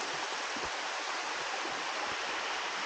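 A waterfall roars in a steady, dense hiss of rushing water, loud and unbroken from start to finish.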